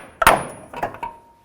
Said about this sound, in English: I'm going to try to hit right here with my hammer, see if I can drive this out